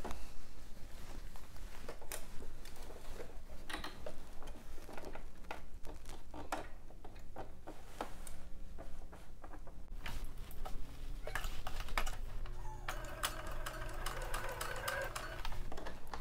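A sewing machine stitches fabric gathers in a quiet room, its needle making a steady, faint, fast ticking patter with short pauses and restarts throughout.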